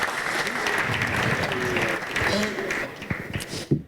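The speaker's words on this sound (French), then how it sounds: "Vous pouvez les applaudir." Sustained, dense audience applause fills a hall at an engineering awards ceremony as a design firm receives a technical-equipment trophy, steady throughout before tapering with a last burst of claps.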